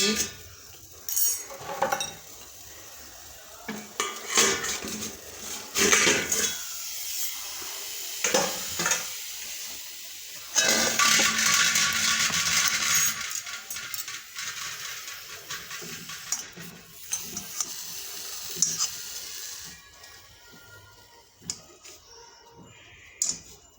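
Sweet potatoes roasting in a pan and being turned, heard as bursts of scraping and clattering utensil strokes over a frying sizzle that holds steady through a long stretch before the movement resumes.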